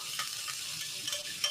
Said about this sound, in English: It sizzles. That sound means it's ready.